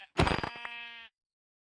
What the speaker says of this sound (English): There. I find a sheep.